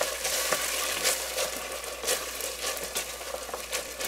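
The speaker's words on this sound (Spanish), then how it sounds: "Vamos a freír esto" Ají pepper paste and onion sizzle steadily in a pan over medium-low heat, a close, continuous frying crackle with light stirring scrapes and no voices.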